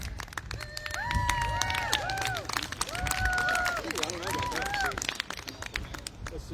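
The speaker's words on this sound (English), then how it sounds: "Let's make some noise for this first place winner" An audience claps and whoops for a first-place winner at a Mvskoke Creek Nation spooky stories event, a quick patter of applause with shrill cheers and whistles rising over it, moderately distant and lively.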